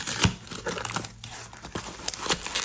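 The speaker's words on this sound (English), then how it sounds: "let's go ahead and let's rip into the actual packs" First-generation iPod packaging is torn and crinkled open close up, with rustling plastic and paper and sharp crackling rips coming in irregular bursts throughout.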